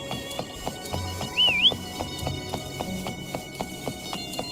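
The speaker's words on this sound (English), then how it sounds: "Why don't you call Foam over? Try whistling." A single short rising-falling whistle calls Foam in the Wuthering Waves video game, clear over steady clip-clopping hoofbeats and light game ambience.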